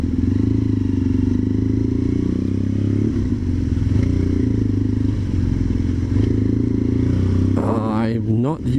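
A BMW motorcycle rumbles steadily throughout while being ridden, a loud continuous engine drone with wind buffeting, the note shifting briefly near the end as the revs change.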